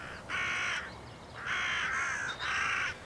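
Crows caw three times from a distance over a field, each harsh call lasting about half a second with steady gaps between, faint against quiet outdoor background.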